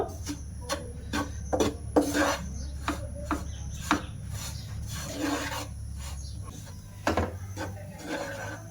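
A spoon scrapes and rubs through a sweet flour dough with peanuts mixed into it in a pot, giving repeated rasping strokes in a steady rhythm, close and moderately loud over a low background hum.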